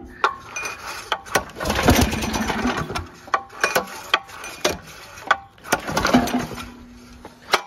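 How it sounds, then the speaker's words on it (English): A Snapper riding mower engine with a dirty carburetor cranks after brake cleaner is sprayed into the carb, giving sputtering bursts and sharp knocks that come in uneven groups, near and fairly loud, with brief pauses between attempts. "Shoot a little bit of this down the carb. See what it does."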